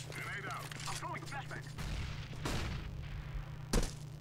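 A loud, sharp gunshot in CS:GO bursts out near the end, following a stretch of game noise, low rumble and faint talk.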